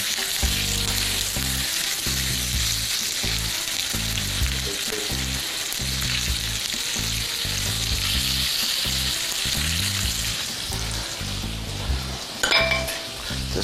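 Meat searing in oil in a hot pan, a loud, steady sizzle and crackle filling the whole stretch, with low pulsing rumble beneath and a brief clink of metal near the end.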